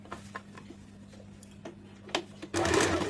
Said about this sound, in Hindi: एक साइड का सिलाई हो चुका, अब हम लोग दूसरे वाले साइड का भी सिलाई कर लेंगे।